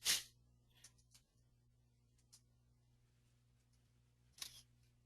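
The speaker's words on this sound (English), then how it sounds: "I keep clicking because I'm talking and typing at the same time" A few sharp computer mouse clicks heard alone during typing: one loud click at the start, faint ones shortly after, and another click near the end over a low hum.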